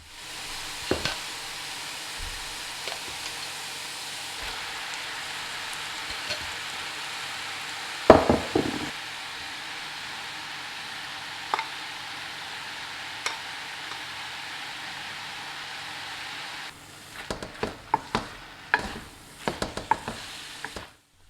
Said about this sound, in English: Drain and add the noodles into the pan along with the sauce. Carry on cooking until done.